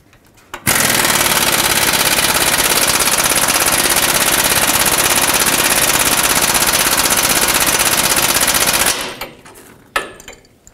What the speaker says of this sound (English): what I'm gonna do is just use my air gun and go until it stops